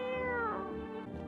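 A cat meows once in a video game, a single drawn-out, fairly loud call with a falling pitch, heard alone without talk.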